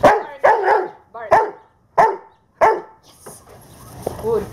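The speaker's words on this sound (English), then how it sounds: "Bark. Bark." A dog barks on command during IGP protection training: about six sharp, loud barks in a quick uneven series, close up, trailing off into softer whines and movement.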